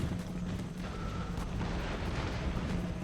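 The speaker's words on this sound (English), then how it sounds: "what's winning this battle is the artillery, because the artillery, my right flank artillery can zoom in now" Artillery fire rumbles through a video game battle as a dense, continuous low roar of distant booms, steady and loud with no clear gaps.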